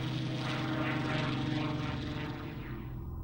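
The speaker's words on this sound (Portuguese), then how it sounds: "seu extraordinário avião, o Spitfire, e seu motor Rolls-Royce, um dos melhores caças do mundo" A Spitfire fighter plane powered by a Rolls-Royce engine drones steadily overhead, its propeller engine a loud, continuous roar with a throbbing low hum that fades slightly toward the end.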